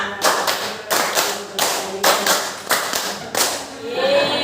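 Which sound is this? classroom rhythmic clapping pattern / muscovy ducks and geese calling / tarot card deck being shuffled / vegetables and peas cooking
classroom rhythmic clapping pattern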